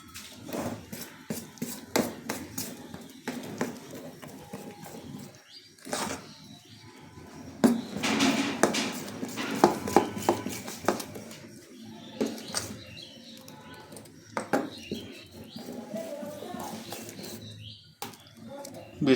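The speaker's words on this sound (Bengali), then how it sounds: "এটা এবার ভালোভাবে আমি ফাটিয়ে নেব।" Batter mixed with chili powder is whisked in a bowl, producing quick, irregular clicking and scraping strokes at close range, with a voice at times.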